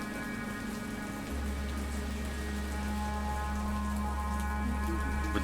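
A heavy downpour falls at a graveside, a dense continuous hiss of rain on surfaces with a low rumbling layer joining partway through, steady and enveloping with no voices.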